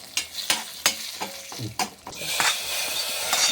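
Chili powder fries in hot oil for a tempering, with several sharp utensil knocks against the pan early on, then a rising, steady close sizzle.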